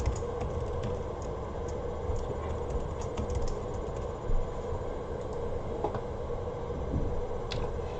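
Keys clack on a computer keyboard as a password is typed in, quick light taps over a steady low background hum, fairly faint and close.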